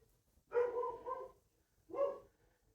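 A big dog barks in the distance, two separate bark bursts a little over a second apart, moderately loud against a quiet room with no talking.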